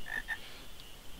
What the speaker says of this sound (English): I smell frogs this way!